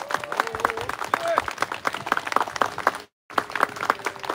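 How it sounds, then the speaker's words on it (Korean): Crowd clapping at a Korean memorial ceremony, quick uneven hand claps running steadily at moderate distance, with a voice speaking over them and a brief full dropout before the clapping resumes. "반드시 승리하시라고 힘찬 박수 부탁드립니다."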